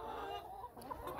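Chickens on a farm clucking near the feeders, a steady, close cluster of overlapping fowl calls that runs throughout without a break.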